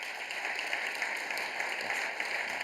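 An audience applauds at a talk on brand storytelling, giving steady, dense clapping that holds at moderate volume throughout, heard from a distance with no voices on top.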